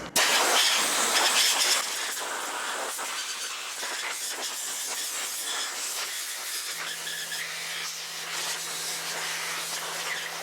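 Compressed air hisses loudly and continuously, blowing a cleaned Ford 302 small-block engine part dry, strongest at the start then steady, with a faint low hum joining partway through.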